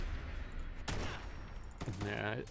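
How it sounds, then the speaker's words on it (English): An M4A1 rifle mod fires in Fallout 4, giving a couple of sharp, punchy shots spaced about a second apart, fairly quiet overall, with someone talking over and between them. "I think that's like hunting rifle sound, but that feels like it's got some major punch behind it."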